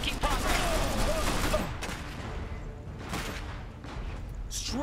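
Strafing gunfire in the strategy game Iron Harvest, bursts of rattling shots and crackle rolling through the moment, loud at first then easing, with game voices speaking over it.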